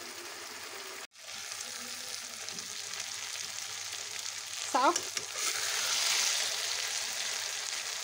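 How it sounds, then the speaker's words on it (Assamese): Pickle mixture frying in a pan, a steady low sizzle with a brief clatter near the start and a short spoken word partway through. "এইখিনি অলপ সময় ভাজিব লাগিব"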